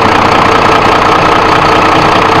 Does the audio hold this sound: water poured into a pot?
no